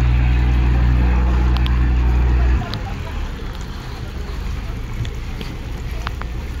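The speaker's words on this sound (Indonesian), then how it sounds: "Kapal mulai merapat di dermaga" A ship's engine drones heavily as the vessel comes alongside a harbour pier, then the deep rumble cuts away, leaving wind buffeting the microphone and faint knocks and clatter nearby.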